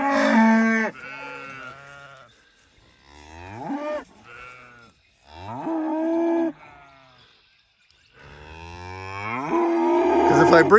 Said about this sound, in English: You be nice to my sheep!